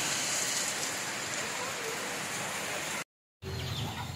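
Rain falling steadily over a corn harvest field, a dense continuous hiss that briefly cuts out near the end and then resumes.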